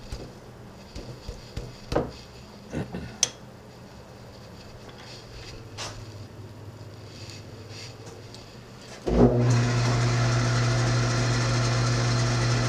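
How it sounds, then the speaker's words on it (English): A few scattered clicks and knocks, then a lathe starts up into a steady, loud whir as a small spotting drill bites into metal. "A little small spotting drill in there."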